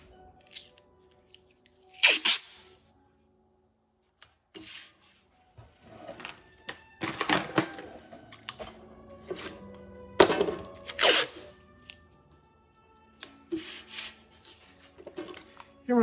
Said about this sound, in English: So I'm going to get some masking tape out.